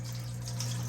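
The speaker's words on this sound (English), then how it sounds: "just pour the whole can of evaporated milk in the mixing bowl" Evaporated milk poured from a can into a mixing bowl makes a faint, steady liquid trickle over a low background hum, lasting under a second.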